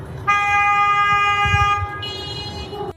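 A car horn blares in a long, loud, sustained honk on a residential street, briefly dipping and then continuing as a second drawn-out blast, with no talking over it.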